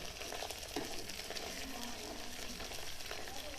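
Onions fry for Bombay chicken biryani, a soft but continuous sizzle and crackle from the pan with faint stirring scrapes and no voices.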